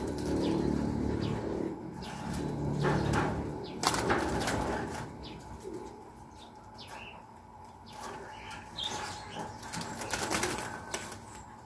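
Young pigeons gather at a loft trapdoor, soft cooing and bird calls mixed with scattered quick wing flaps and fluttering bursts, heard fairly close against low outdoor background noise.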